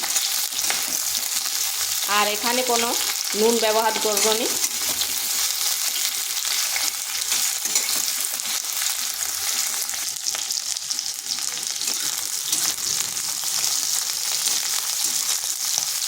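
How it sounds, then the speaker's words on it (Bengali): Onions fry lightly in a pan, with a strong, steady sizzle close by from start to finish; a voice speaks briefly near the beginning over the frying. "পেঁয়াজগুলো হালকা একটু ভেজে নেব, খুব বেশি ভাজার দরকার নেই।"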